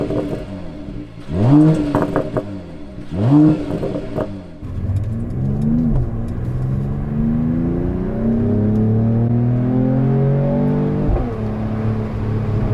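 A 2022 Mercedes E53 AMG Coupé with its exhaust open, revving hard twice in loud close bursts, then pulling away and accelerating through rising gear sweeps up a mountain road, with a brief shift dip near the end.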